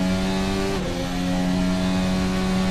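Race cars corner on a twisty circuit with a sustained engine drone that drops pitch briefly, then holds steady, loud and continuous.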